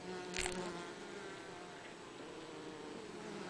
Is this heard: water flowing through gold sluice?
no